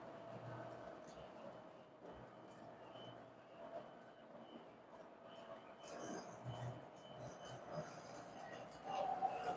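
A Lionel Santa Fe model train runs on a tabletop layout, with a continuous low rumble and clatter of wheels on track at moderate distance and a faint squeal near the end.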